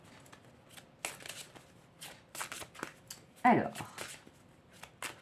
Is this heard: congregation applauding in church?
no